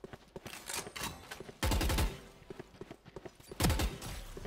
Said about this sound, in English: that gun makes a cool sound